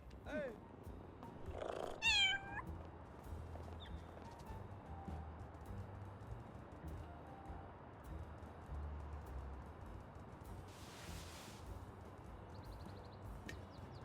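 A cat meows a few times early on in the Little Kitty, Big City video game, short rising calls set over a low steady game ambience, with brief faint chirps and a burst of noise later.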